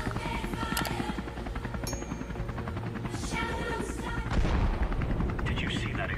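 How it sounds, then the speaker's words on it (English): Rapid gunfire bursts and a grenade explosion from a Counter-Strike 2 match at a major tournament in Copenhagen, dense and continuous with game effects layered throughout and a heavier blast swell midway. "Did you see that explosion?"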